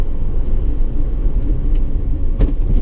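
A 1958 DKW F93 with a steel chassis and leather-covered plywood body drives along on a morning run, its engine giving a steady, loud interior rumble with a brief knock near the end.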